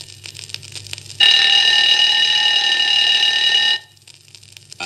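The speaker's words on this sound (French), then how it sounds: "Écoutez ce réveil matin à un mètre." A mechanical alarm clock, about one metre away, starts ringing abruptly with a loud, steady, bright metallic bell, holds for around two and a half seconds, then cuts off into quiet.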